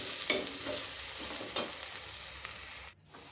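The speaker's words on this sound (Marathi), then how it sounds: "कांदा बारीक चिरलेला सुद्धा थोडं लालसर होईपर्यंत आपल्याला परतून घ्यायचं आहे" Finely chopped onion sautéing in oil until reddish, a continuous close sizzle with a couple of stirring scrapes, cutting out abruptly near the end.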